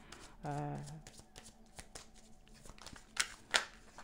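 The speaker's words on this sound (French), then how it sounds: "je vais vous sortir d'autres cartes avant de vous quitter" Tarot cards being shuffled and drawn in a reading: a quick riffling burst, then scattered soft card slaps and snaps, close and quiet.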